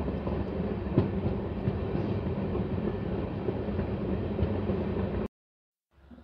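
Lalkuan–Howrah train running on rails, a steady loud rumble with faint rhythmic clatter from up close, which cuts to near silence for the last second.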